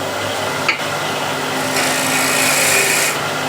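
A gouge shear-cuts spinning wood on a lathe, giving a steady, close rasping scrape with a faint hum underneath and one brief knock near the start.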